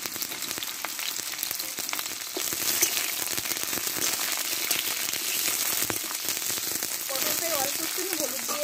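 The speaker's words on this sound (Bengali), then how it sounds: "দিয়ে সবজিগুলো আমি আগে ভেজে নিব" Pieces of pointed gourd (potol) frying in white oil in a wok, a steady crackling sizzle close by that thickens partway through and continues without pause.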